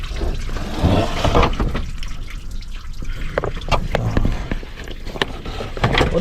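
Water trickling and splashing steadily while being drained from a Volkswagen Golf Plus during wiper motor replacement, close and continuous with a few clanks.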